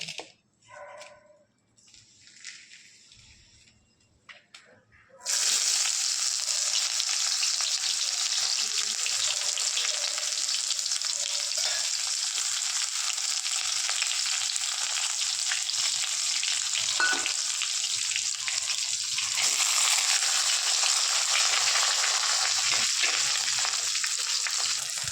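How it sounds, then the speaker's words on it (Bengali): Onion, pepper, dried chilli, bay leaf, garam masala, cashews, ginger, garlic, tomato, cumin and coriander fry in a pan for a butter paneer masala base. After a few quiet seconds, a loud, steady sizzle starts and runs unbroken to the end. "এগুলো সব ভেজে নেব।"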